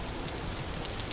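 Steady rain hiss falling across the Vintage Story game world, a continuous broadband wash with soft patter, moderately quiet and unbroken, with no talk over it.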